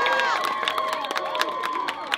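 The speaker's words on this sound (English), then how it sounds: "Give yourself an applause." Crowd at an outdoor Palestine solidarity rally cheering and clapping, with high excited shouts and scattered claps over a dense, continuous roar for a couple of seconds.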